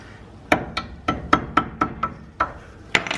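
A small hammer strikes metal on a Chevy S-10 drag race truck's front suspension, trying to knock a stuck part loose: nine sharp ringing blows in an uneven rhythm, close and loud.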